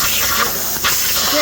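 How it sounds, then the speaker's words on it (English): An air blower cleans up a workshop during the building of a handmade rigid custom chopper from a VN800, giving a loud, steady, close rush of hissing air throughout. "Quick blower."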